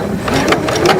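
Sewing machine stitching a zipper at a slowed speed, a loud, close, rapid rhythmic whirring and clacking of the needle running steadily without pause.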